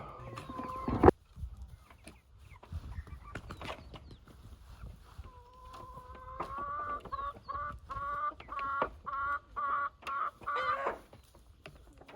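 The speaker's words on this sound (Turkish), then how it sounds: "Tavuklar baksana saman yiyorlar." Chickens cluck and murmur close by while eating straw, with a sudden knock near the start and soft rustling and scratching throughout.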